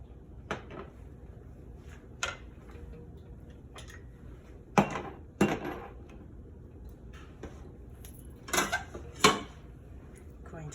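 A ladle and a glass jar are handled while making blackberry jam, giving scattered clinks and knocks of metal against glass with quiet gaps between them.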